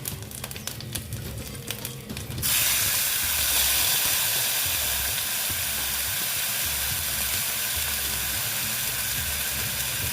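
Water poured into a hot pan of turmeric spice for a vegetarian chayote squash and potato curry sets off a loud, steady hiss of sizzling steam that bursts in suddenly and holds for several seconds.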